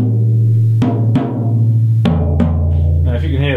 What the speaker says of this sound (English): a common thing when somebody turns up with a drum kit is the toms might sound a bit like this